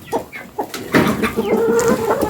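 Several chickens in a backyard garden in Australia cluck in short bursts close by, with a busier stretch of overlapping clucks toward the end.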